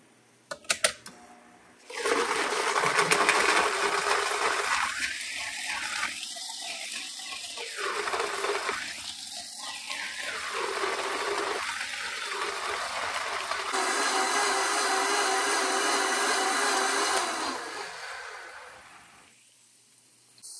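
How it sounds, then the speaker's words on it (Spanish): A kitchen blender whirs loudly and steadily, blending onion, tomato, ancho chile and other chiles with salt and a little water. The motor pitch shifts several times as it works before winding down. "Tapamos para llevar a licuar"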